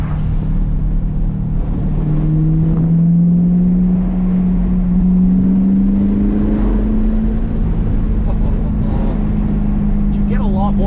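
A C8 Corvette V8 fitted with a Corsa cat-back performance exhaust, in track mode with the windows down, gives a steady deep rumble heard from inside the car, with someone talking over it.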